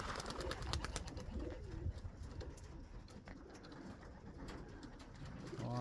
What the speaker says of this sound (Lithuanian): sportiniai balandžiai